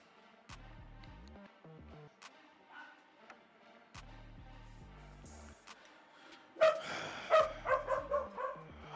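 A pet dog barks indoors during a live football watch party. A short run of loud, close barks comes near the end, over steady background broadcast sound.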